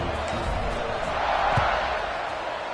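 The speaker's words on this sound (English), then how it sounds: "this crowd is buzzing after that last score" Football stadium crowd after a touchdown, a broad, steady murmur of thousands of fans buzzing at a distance with no single voice standing out.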